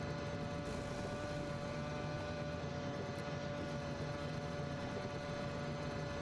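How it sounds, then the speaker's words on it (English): Helicopter flying overhead in a video game, a steady whirring engine drone with a constant hum that holds evenly throughout, fairly close and alone with no talking. "These people on the helicopter."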